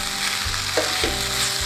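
Egg Manchurian frying in a pan over a high flame while being stirred, giving a loud, constant sizzle broken by a couple of scraping stirs.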